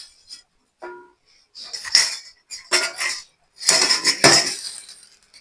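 Cooked buns being moved onto another plate or tray, with a series of close clinks and scrapes of utensils against dishes in short bursts separated by brief pauses.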